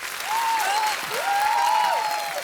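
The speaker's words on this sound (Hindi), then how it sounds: "जिन जिनको बात अच्छी लगी जोरदार तालियां" A studio audience at a comedy talk show claps in steady, dense applause that swells and holds for a couple of seconds, while a sustained whistle or cheer rises above it.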